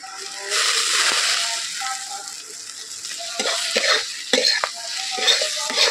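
Mashed pointed gourd is stirred with spices and chopped coriander in a pan, giving a steady scraping, squelching mix over a light sizzle, with brief talk early on.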